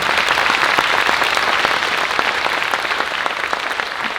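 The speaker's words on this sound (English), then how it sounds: "Everyone, can you give them one last round of applause?" A school audience at a spring band showcase gives the band students a dense, loud round of applause, steady clapping filling the room from start to finish.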